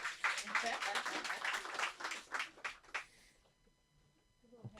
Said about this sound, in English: Let's give a round of applause to the good sister.